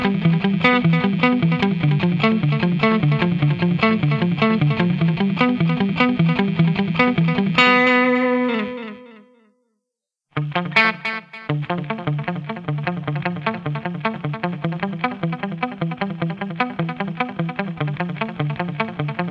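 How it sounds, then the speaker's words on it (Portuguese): Electric guitar played through a delay pedal set to a long, higher-level delay, loud and continuous, with echoing repeats trailing off into a brief near-silence before the playing resumes. "Eu já utilizo o delay cópia, um pouco mais alto, um pouco mais longo."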